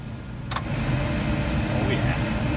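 A supercharged rat rod wrecker engine cranks and catches with a brief whirring click, then settles into a steady low running hum.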